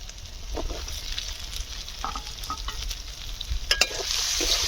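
Cut mango pieces sautéing in spice paste in a pan, a low sizzle under irregular scraping and stirring strokes, with a brighter hiss swelling toward the end, close and moderately loud, with no voices.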